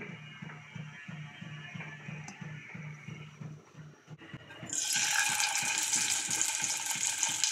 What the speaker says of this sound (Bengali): প্রথমে মাছগুলোকে ভেজে নিচ্ছি